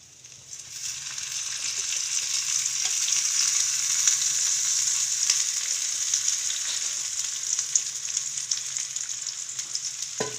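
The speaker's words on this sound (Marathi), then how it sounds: "आता तेल टाकते कांद्यांमध्ये" Onions frying in hot oil in a pan while tomato chutney with prawns is being made, giving a steady, bright sizzle that swells after the first second and holds continuously, with a faint low hum underneath and no talking.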